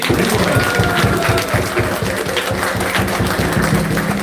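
Devotees at the Bhakti Center in Gachibowli clap during a Hare Krishna gathering. Loud, continuous rhythmic clapping blends with tonal chanting or music throughout.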